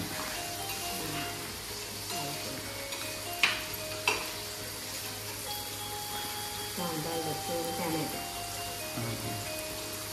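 Prawns fry in a pan with a steady, close sizzle like light rain, stirred now and then, while a voice speaks faintly in the background.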